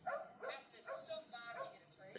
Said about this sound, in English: Stop barking at it, please, Affiedon.